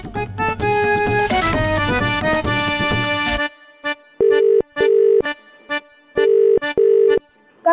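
A telephone call goes unanswered in a Marathi TV serial scene: after a burst of background music, a ringback tone sounds in repeated paired pulses with silent gaps, clear and close.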